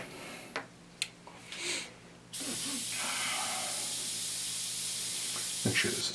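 Airbrush spraying paint onto Wraithblade miniature models: after a few soft clicks and handling taps, a steady loud hiss of air and paint starts abruptly and runs continuously to the end.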